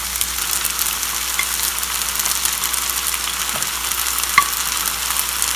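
Pre-fried beef and shrimp being stirred into spaghetti in a small pan, an even close hiss of frying with occasional light spoon scrapes and a single sharp tap, no talk.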